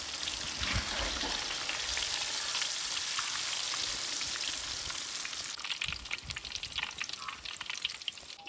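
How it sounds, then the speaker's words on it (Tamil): Masala-coated fish pieces fry in clean palm oil in a kadai during outdoor village cooking, a continuous loud sizzle with popping crackles that grow more sputtery toward the end. "அடுத்து இருக்கிற மீனை மசாலா போட்டு வச்சதா எண்ணெயில் போட்டு பொரிச்சு எடுக்க போகிறான்."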